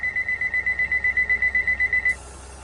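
Door closing alarm of a Class 150 train in Train Sim World 2, a rapid steady series of about twenty high electronic beeps over a low hum, stopping after two seconds.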